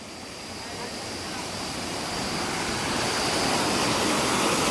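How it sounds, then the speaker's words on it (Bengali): Water rushes down Bamni waterfall in a steady, powerful roar that swells gradually louder as the listener approaches, a dense unbroken wash of sound. "ঝর্ণার জলের আওয়াজ।"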